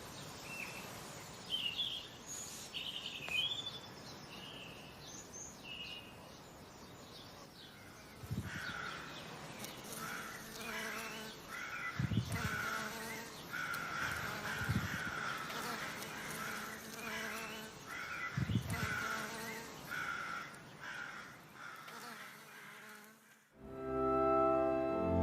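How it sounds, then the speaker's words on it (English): Crows caw several times from a sycamore tree in a garden, moderately distant and spaced out, over faint outdoor ambience, ending in a sudden louder noise. "Today we've come over to listen to the bees in the echium and all the birds in the sycamore tree."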